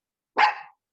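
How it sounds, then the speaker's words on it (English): One short dog bark sounds alone in an otherwise quiet room during a meditation class, fairly faint and over in a moment. "Sorry about my dog."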